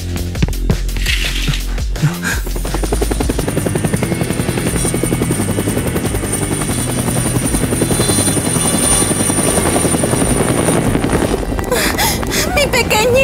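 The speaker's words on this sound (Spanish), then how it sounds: "¿Y los helicópteros?" A helicopter flies nearby, its steady rotor chop loud and continuous, with a brief rustle and thud before the sound takes over and holds throughout.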